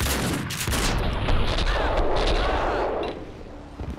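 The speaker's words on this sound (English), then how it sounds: "Okay, no, I definitely use a shotgun." Shotgun blasts from Max Payne 2 boom in quick succession with heavy, dense gunfire and rumbling echoes, loud and close, tapering off at the end.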